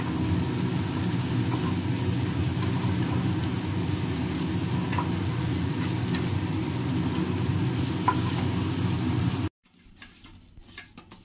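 Chicken fries in a pan on a gas stove with a constant close sizzle and crackle, a few faint utensil clicks, then the hiss cuts off abruptly near the end, leaving a quiet room.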